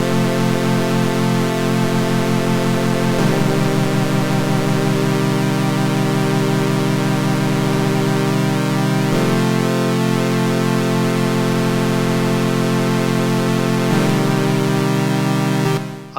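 Analog-style polyphonic synthesizer, an Arturia OB-Xa V or OB-6, playing loud sustained brassy chords that shift every few seconds with no gaps, alone with no voice.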